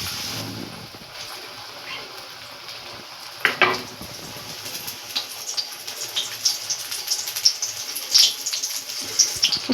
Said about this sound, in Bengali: এবার এরকম করে আমি আস্তে আস্তে চপ ভাজার মতন ছেড়ে দেবো